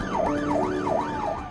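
A wailing police car siren rises and falls in quick regular cycles during a pursuit, loud and close with traffic noise underneath.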